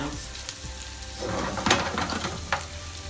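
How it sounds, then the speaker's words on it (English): Onions sizzle and crackle steadily as they fry golden brown in a hot pan, with a few sharper pops and spatters rising above the frying hiss. "just leave it there for frying."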